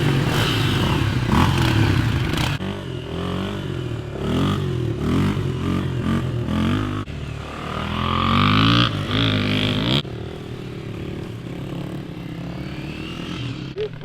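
Honda CRF250F, XR250L and CRF230F dirt bikes warm up at a house, their close single-cylinder engines idling and blipping into revs, then settling, with rattly mechanical clatter throughout.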